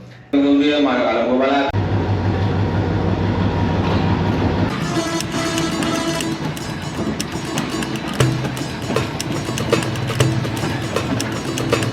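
A passenger train runs along the coast in Sri Lanka, its steady rumble and rhythmic wheel clatter loud and close throughout, with speech over it and a brief higher tone at the start.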